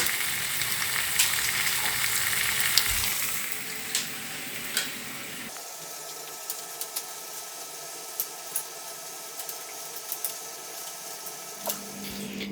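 Sausage and nuggets sizzle and crackle in a pan on a gas burner, a soft frying hiss with scattered pops and light clicks, fairly quiet and close.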